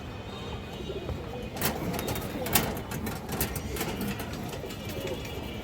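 A male pigeon coos softly amid other pigeons in a loft, low murmuring calls under a steady background with scattered sharp clicks and flutters, nearby but not loud.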